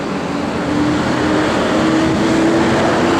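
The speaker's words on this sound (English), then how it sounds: "Sorry, trying to get these trucks to go by, all this road noise." Road traffic with trucks passing by, a steady loud broadband roar and rumble of engines and tires that swells slightly toward the end, heard alone with no talking.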